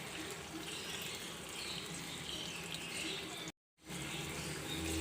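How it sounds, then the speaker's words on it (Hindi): About half a cup of water poured into a pan of chicken cooking in spices gives a steady, close hiss that fills the whole stretch, cut off by a brief silence just past the middle before resuming. "आधे कप से करीब हम ऐसे पानी का डालूंगी"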